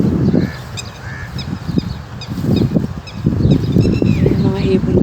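Geese honk repeatedly at close to middle distance, mixed with other bird calls over steady outdoor wind noise, with a person talking intermittently in the background.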